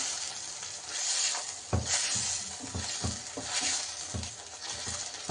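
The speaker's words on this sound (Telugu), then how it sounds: "కొద్దిగా ఆయిల్ తేలే వరకు ఉడికించుకుందాం, వేయించుకుందాం బాగా." Chole masala frying in oil with curry leaves in a pan: a steady soft sizzle under intermittent stirring scrapes and light taps, close and fairly quiet.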